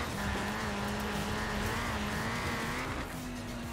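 Ford Racing Puma with a 1.7-litre engine in Forza Horizon 4 holds a steady, raspy drone with small pitch wobbles through a shift, loud and close, then eases slightly near the end; no talking.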